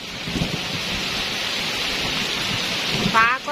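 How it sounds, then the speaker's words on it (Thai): Steady heavy rain with a low rumble of thunder rolling underneath, constant and close, with a brief whistling sound near the end. "โอ้ เสียงฟ้าร้องนะคะ"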